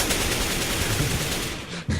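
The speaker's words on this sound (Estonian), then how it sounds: "Jälle Siim laseb mind" Gunfire in the video game Counter-Strike rattles in a dense, continuous burst of rapid shots, loud and close, cutting off sharply near the end.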